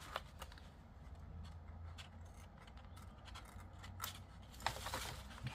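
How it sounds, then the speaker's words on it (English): Scissors snip out small paper triangles for handmade scrapbook envelopes, producing quiet, close crisp cuts and paper rustles against a soft background hum. "Cut out these little triangles here."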